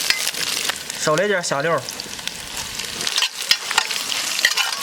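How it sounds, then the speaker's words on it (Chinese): Scallions and ginger fry in hot oil in a clay pot, giving a steady close sizzle and crackle throughout, with a short burst of speech partway through. "砂锅里来点油，葱姜往上炸一炸"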